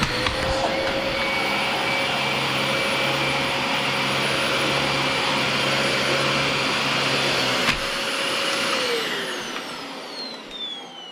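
A Dyson DC25 upright vacuum cleaner with a replaced motor runs loud and steady with a high whine, then switches off and winds down over the last few seconds.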